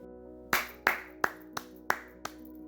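Six sharp, separate hand claps at an uneven pace, close by with a slight room ring and no talking.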